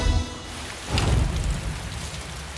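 Heavy rain pours down in a dense, steady hiss, with a brief swell of louder rushing noise partway through.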